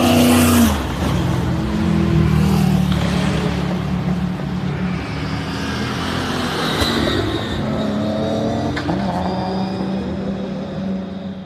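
A Toyota Supra with anti-lag revs hard nearby, a loud, continuous engine roar with rising and falling revs and sharp pops and crackles, filling the whole stretch with no talk.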